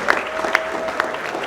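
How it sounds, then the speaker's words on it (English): An audience at a McAllen Chamber of Commerce celebration claps in a steady round of applause, with a few sharper claps standing out near the microphone. "A massive round of applause once more for our good friend, Sally Frausto Guerra."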